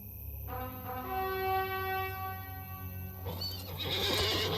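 A horse in a video game lets out a loud, drawn-out whinny with a wavering pitch, followed by snorting and breathy rumbling, set against a steady low ambient hum and no speech.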